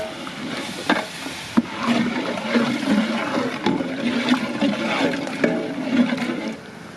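Water pours into a large pot of soaked rice for a village-style pulao, a loud, close, continuous gushing splash with a few knocks of a container against the pot, lasting about seven seconds before stopping.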